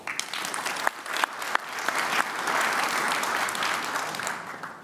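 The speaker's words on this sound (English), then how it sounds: "please give a short round of applause to everyone" A conference room full of people claps, starting with scattered sharp claps and swelling into steady, even applause that holds to the end.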